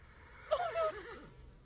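A horse neighs once in a tabletop fantasy game sound effect, a loud wavering whinny rising then trailing off, alone over a low background.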